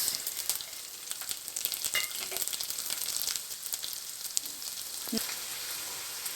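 Ginger and garlic cloves frying in a hot pan for bottle gourd sambhar, a steady close sizzle with scattered crackles and pops, heard alone without talk.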